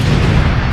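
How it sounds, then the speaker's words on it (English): A movie-ad explosion effect with a loud, sustained boom and a dense rumble that fills the whole short moment without a break. "The explosion is so good though."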